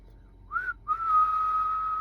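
A person whistles near and clearly, first a short rising chirp and then a long steady held note, meant to make voice-activated lights glow inside a van.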